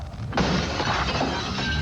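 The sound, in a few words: window glass breaking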